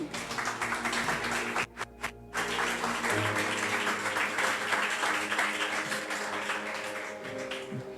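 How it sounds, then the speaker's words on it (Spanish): A church congregation claps enthusiastically in a sustained round of applause, dense and even, with a brief dip near the start before resuming. "Dale un aplauso a Él."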